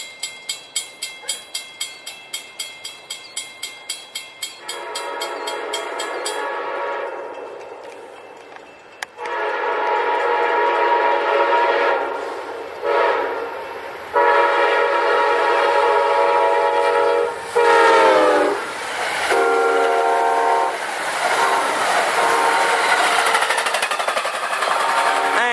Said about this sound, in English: There it goes, Amtrak 79, southbound by Marco